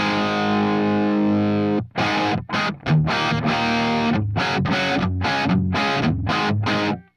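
Heavily distorted electric guitar played straight into an amp rings out a sustained chord, then plays choppy stop-start riffing with short gaps, loud and close, nothing else heard.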